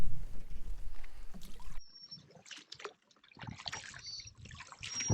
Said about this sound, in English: Beauty paddle across the lake so far.